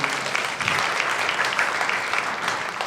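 A church congregation at a Sunday service applauds to thank the pastor, a full, steady round of clapping from many hands throughout the room, lasting about three seconds.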